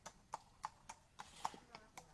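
Horse hooves clip-clopping in a steady walking rhythm during a school riding lesson, about eight distinct hoof strikes, fairly close, with an instructor's voice speaking over them.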